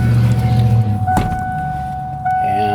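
A 1988 Ford F250 engine running just after a high-pressure fuel pump replacement: a loud, close mechanical drone with a steady tonal whine that shifts in pitch partway through, then settles into a steady run.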